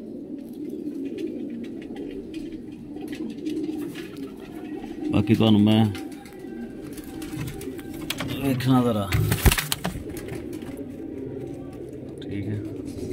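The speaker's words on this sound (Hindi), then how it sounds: "ये पुराने कबूतर" Ferozepuri pigeons coo in low, rolling bursts close by while someone talks over them.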